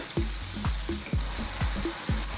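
Potatoes fry in a pan for a mushroom and potato aloo masala curry, as a steady sizzle runs under regular scraping thumps from stirring, about two each second, close and fairly loud.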